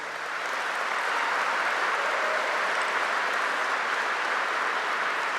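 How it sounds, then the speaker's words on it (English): Sustained audience applause at a Vermont Air National Guard F-35A arrival ceremony, a dense, steady wash of many hands clapping that holds at full strength for the whole stretch with no voices on top. "that applause is for all of you, and you deserve it"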